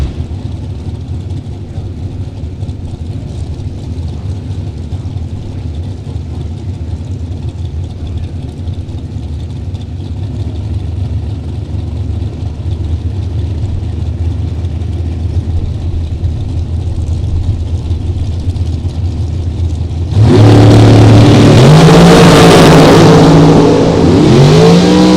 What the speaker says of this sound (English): As Corey Galletti and Caden Muth backing up from the burnouts.